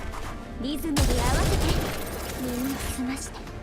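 Gunfire in the video game GFL2 Exilium, a sharp loud burst followed by a rattling volley that fades, with a voice talking over it.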